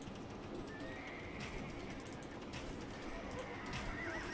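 Horse neighs and hoofbeats from a large group of elite Tarkan cavalry in Age of Empires, steady under faint game ambience with brief whinnies rising over a busy battle bed.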